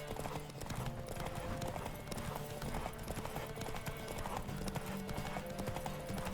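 Rapid rhythmic hoofbeats of a galloping horse in The Witcher 3: Wild Hunt pound steadily throughout, with a brief whinny and background rumble.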